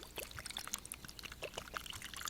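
Warm water pours steadily into a German WW2 iron ration soup, a continuous close trickling splash with no talk over it.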